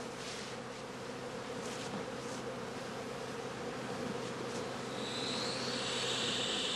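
A dense mass of honey bees drones steadily around a straw skep during autumn colony work at an apiary, a continuous close buzzing that swells slightly louder toward the end.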